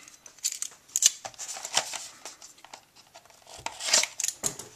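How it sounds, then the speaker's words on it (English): A blade slices through a sticker on product packaging during an unboxing, with quiet, scattered scraping and crinkling clicks close by. "So, cut that sticker."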